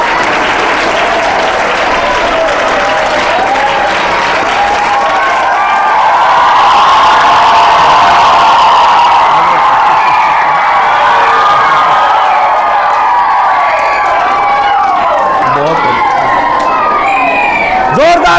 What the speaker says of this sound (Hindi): एक बार पूरे स्टाफ के लिए जोरदार तालियां